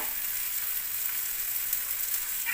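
Thalipattu made from leftover ragi mudde cooks in a little oil on a pan, giving a continuous, even sizzle up close with no talking.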